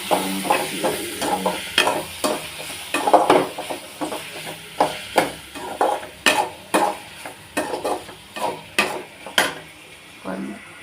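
Green chillies sizzle in a frying pan while a spoon stirs and scrapes them in a steady series of sharp clinks and scrapes, close and fairly loud.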